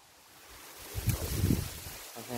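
Strong outdoor wind gusting in a brief swell, a rough rushing roar with microphone buffeting that peaks mid-clip, heard alone without talk.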